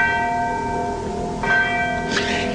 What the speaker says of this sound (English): And then there's this bell.